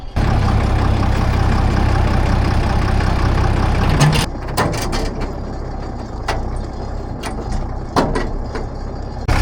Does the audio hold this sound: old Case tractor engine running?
yes